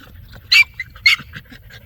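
An American Bully or pit bull type dog gives two short, breathy bursts about half a second apart, close and fairly loud, with faint quieter rustles between.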